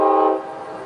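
A loud train horn blares alone with strong steady tones, easing off after the first half as the train passes close by.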